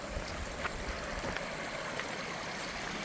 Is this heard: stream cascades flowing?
yes